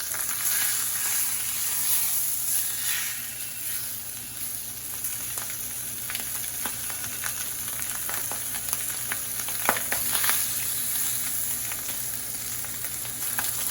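Steak searing in a hot pan, a loud, continuous sizzle with sharp spitting crackles throughout, close by and without talk.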